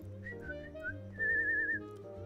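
Someone whistles a short, wavering melodic phrase, soft and close, over a steady bed of cozy game music.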